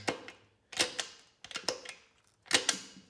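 The gear shifter of a 2004 Polaris Predator 500 ATV clacks through several shifts, sharp mechanical clicks arriving in quick pairs and clusters with short quiet gaps between, close and fairly crisp, no speech.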